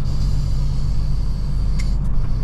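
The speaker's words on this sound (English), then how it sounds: "That's some rare footage right there of me missing a gear." Cold truck cab with a heavy low engine rumble droning throughout, close and loud, with a brief clunk and scrape as a gear is missed while shifting.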